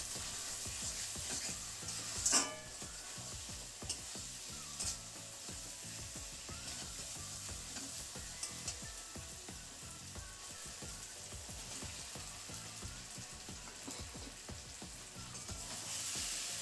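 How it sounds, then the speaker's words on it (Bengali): Fried potato and cauliflower stirred into masala in a pan, a continuous close sizzle under a steady patter of spatula scrapes and stirring, with one sharper clack near the start and no voices. "এখন আলু আর ফুলকপিটাকেও মশলাটার সাথে ভালোভাবে মিশিয়ে নিচ্ছি"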